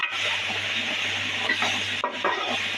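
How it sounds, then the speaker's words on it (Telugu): Food frying in a covered pan, a steady close sizzle with faint stirring scrapes throughout, a brief dip near the end, no voices. "చక్కగా అది ఫ్రై అవ్వాలి ఇవ్వండి ఫ్రై అవుతుంది కదా"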